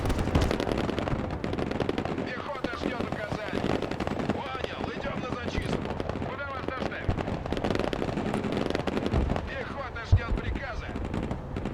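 Sustained automatic gunfire and explosions from a Broken Arrow modern warfare battle, dense continuous bursts layered with distant booms, with a voice talking over the combat throughout.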